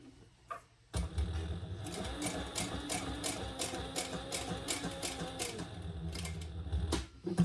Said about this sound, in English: So I'm going to stitch all the way around it. Top stitch.